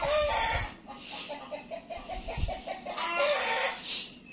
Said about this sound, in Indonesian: Kita lihat ayam dulu ya, kayaknya habis bertelur